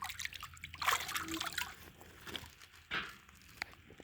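Water trickles and splashes over a freshly skinned squirrel as it is rinsed in a bowl, with soft sloshing and dribbling close by, faint and uneven.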